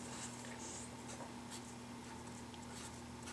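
A chalk marker scratches across chalkboard kitchen labels in short, faint, dry strokes, quiet and close against a steady low hum.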